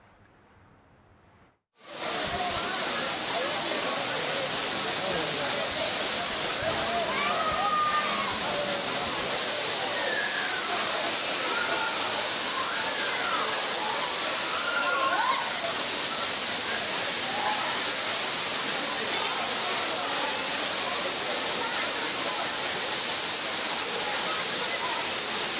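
Old Courtallam waterfall in Tamil Nadu pouring down with tourists bathing beneath it: a loud, continuous broadband roar of falling water begins abruptly after a brief quiet start and holds steady throughout, with faint scattered voices underneath.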